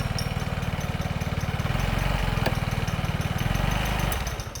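A faulty motorcycle engine runs with a rough, uneven throb, steady and close for most of the stretch before easing off near the end, with no talk over it.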